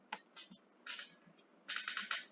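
Short bursts of keystrokes on a computer keyboard while a search is typed, three clusters of quick taps separated by brief pauses, close and fairly quiet with no talking.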